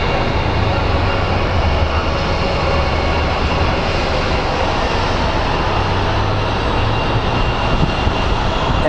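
An airliner arriving at Phoenix Sky Harbor as flight 2240 from Charlotte, a loud, continuous jet engine roar with a low droning undertone, steady and close throughout.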